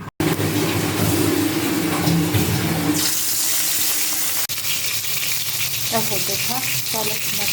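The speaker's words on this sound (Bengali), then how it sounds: "তেলটা ভালোই গরম হয়ে গেছে চলো মাছগুলো ভেজে নিই" Fish slide into well-heated oil in a pan for a Bengali fish dish, setting off a loud, close, continuous sizzle and crackle that softens partway through, with some faint spitting pops toward the end.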